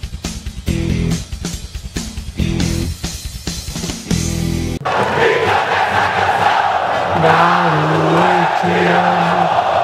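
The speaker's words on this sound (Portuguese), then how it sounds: "vocês vão ver como a torcida do CRB é sensacional" CRB football club supporters in a stadium start with loud rhythmic drumming and claps, then switch to a massed crowd chant rising and falling in unison, big and reverberant.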